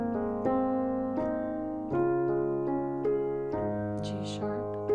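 Solo piano plays the melody of a song over sustained chords, a handful of soft, slow notes ringing clearly with no talking.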